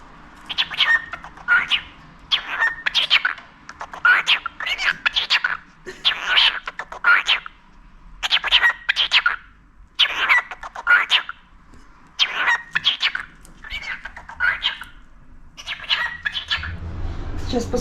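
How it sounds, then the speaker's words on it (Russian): A pet budgerigar chirps indoors in repeated bursts of quick, high twittering, close and fairly loud, separated by short pauses. A person speaks briefly at times. "Попугайчик."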